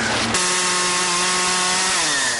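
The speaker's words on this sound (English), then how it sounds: "The sound of chainsaws cutting limbs were heard all across the Wabash Valley" A chainsaw cutting tree limbs after a storm roars loud and close, its engine whine holding steady with a slight pitch drop as the blade bites into the wood.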